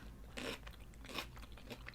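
Crunchy food is bitten and chewed close to the mic in a couple of crisp, crackling bursts over a faint low background hum.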